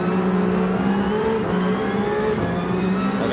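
The Ferrari Vision GT race car's engine drones loud and steady on Suzuka Circuit in Gran Turismo 7, a continuous high-revving whine with slight pitch shifts as it holds speed, no voices.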